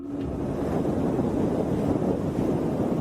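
Wind on a windy night in Spain rushes in a steady broadband roar that buffets the microphone, fairly loud and continuous, with no voices.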